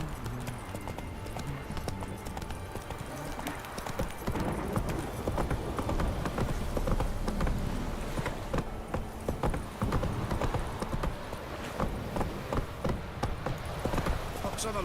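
Horse hooves clip-clop steadily in The Witcher 3, a rhythmic trot running close and loud for the whole stretch, with game voices talking over it now and then.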